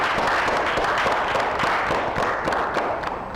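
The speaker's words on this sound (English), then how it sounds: "I round of applause for them." Audience applauding the winning school, Gloryfield College, at an engineering competition show: a dense, steady round of clapping that runs the whole time at even strength.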